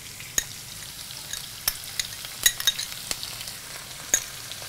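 Spice paste stirred into softened onions frying in a pan, a steady broadband sizzle with scattered sharp scrapes and taps of a spoon against the pan.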